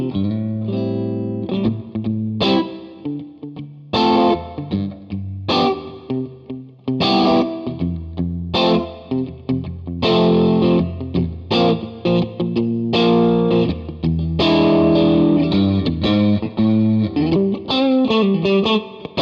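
Overdriven electric guitar played through a King of Tone overdrive pedal into a Jet Pedals New Revelation reverb, loud chords and single-note lines with a crunchy distorted edge and a spacious tail, heard alone throughout.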